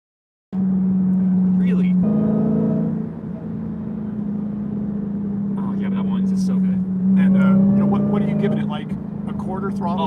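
A Dodge Challenger SRT Demon's Hemi engine fed lightly at quarter throttle, a steady low drone that swells in a few gentle revs, with voices talking over it.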